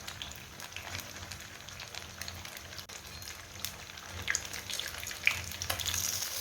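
Fish fries in hot oil at a Lahore street food stall with a soft, continuous crackle and sizzle, fairly quiet and close, with a few sharper pops near the end.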